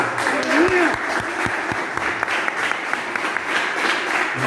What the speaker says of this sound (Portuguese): E você que crê, aplauda ao Senhor